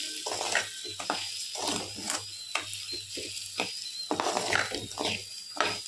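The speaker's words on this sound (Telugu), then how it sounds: "దీన్ని కూడా లైట్గా ఆయిల్లో ఫ్రై చేసుకోవాలి" Wheat rava frying lightly in oil gives a soft, steady sizzle with crackles and scraping stirs recurring at irregular intervals, close and fairly quiet, with no voices.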